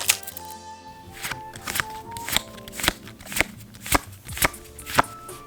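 Trading card booster pack being opened by hand, with crisp wrapper crinkles and a steady series of sharp card flicks and slaps as cards are pulled one after another, close and fairly loud.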